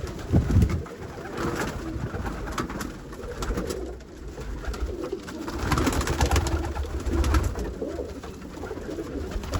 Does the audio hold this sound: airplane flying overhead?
no